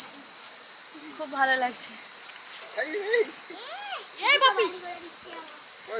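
Crickets chirp in a constant high-pitched drone in an acacia thicket on Henry Island, while a person speaks briefly over it.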